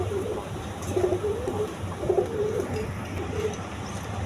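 Indian Kaldum pigeons coo nearby in soft, repeated throaty rolls, several rounds of cooing over a constant background hum.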